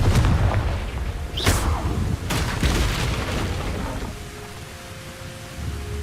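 A fiery Confringo spell explosion in Hogwarts Legacy bursts with sharp booms and crackling blasts, followed by rumbling debris and a fading tail as the game's sounds continue.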